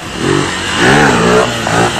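Motorcycles ridden by a large crowd of bikers on Delhi roads, engines revving loudly and continuously with rising and falling pitch, close by, without speech.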